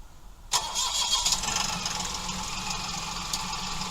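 A Mahindra 2555 tractor's diesel engine cranks and catches after a quiet moment, then settles into a steady, loud, rumbling idle close by.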